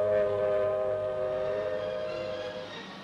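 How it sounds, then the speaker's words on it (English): Civil defense air raid sirens wailing across New York during a mock atomic-age attack drill, a steady layered tone that sounds distant and gradually fades toward the end. "Then sirens sound the alarm."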